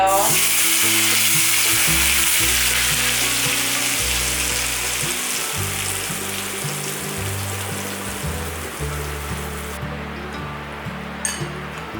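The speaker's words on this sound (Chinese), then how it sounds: "放入1茶匙的花椒粒，接着放入热油，" Hot oil poured over Sichuan peppercorns sets off a loud, dense sizzle. It fades gradually over twelve seconds, and a couple of faint clinks come near the end. No speech.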